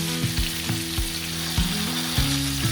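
Fish frying in oil until golden and crispy, a dense continuous sizzle broken by about five low thuds or clanks at irregular intervals, close and loud, with no voices.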